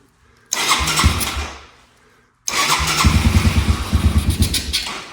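A 1987 Yamaha Moto 4 200 ATV engine runs on choke, starting rough and loud, cutting out for about a second, then catching again with a steady, pulsing idle close by.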